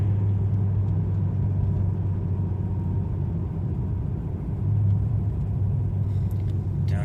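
A 2010 Ferrari California idles after a cold start, a steady low engine rumble with a deep drone that dips briefly before settling again, with no talking.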